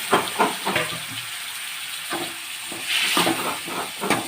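Tomatoes sizzle and fry in a pan in a home kitchen, a steady hissing crackle broken by a few sharper stirring scrapes and clinks, close and fairly loud with no talking.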